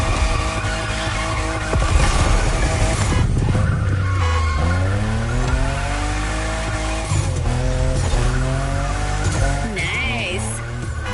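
A fifth-generation Toyota Supra in the racing game The Crew revs hard and shifts through gears, its engine note rising and falling, with loud tire squeal and skidding through turns while a voice talks over it.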